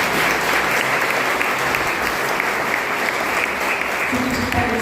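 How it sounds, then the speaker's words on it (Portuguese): Congregation applause at a church service, a loud, steady wash of clapping that holds for several seconds, with a voice rising over it near the end. "Você pode aplaudir Jesus?"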